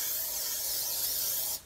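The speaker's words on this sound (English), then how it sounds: "we're going to take a large 13 by 9 baking dish, and we're going to spray it down" Cooking spray hisses into a large 13 by 9 baking dish in one steady, close burst that cuts off abruptly near the end, with no talk over it.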